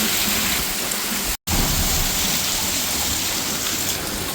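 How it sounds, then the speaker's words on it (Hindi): Heavy rain pours down in a steady, dense wash of hiss with no break except a very brief dropout, loud and close throughout. "पूरी तेज बारिश है।"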